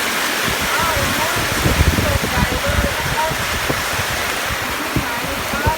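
Heavy rain pours down in a steady, dense wash of noise, with someone speaking over it throughout.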